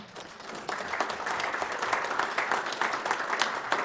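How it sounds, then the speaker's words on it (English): A round of applause at a state board of education meeting, honoring school superintendents who spoke: a room of people clapping, starting softer and swelling into steady, moderately distant clapping. "You guys need a round of applause, and I mean it"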